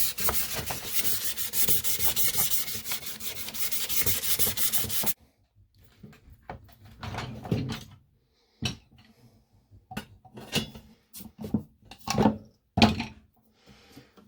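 Sanding a 1966 GMC headlight bezel before primer: a steady, close abrasive rasp runs unbroken for about five seconds, then gives way to short, separate scrubbing strokes and light handling knocks with quiet gaps between them.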